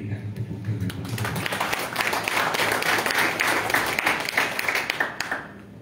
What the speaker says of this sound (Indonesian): Yang mau jadi murid kita berikan tepuk tangan.